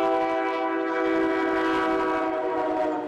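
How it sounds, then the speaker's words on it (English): An A Line commuter rail train sounds a sustained, loud horn with a steady harmonic chord that holds for a few seconds, close by and alone. "that's the only time I'm going to use the sound of a horn or the ding of the gates"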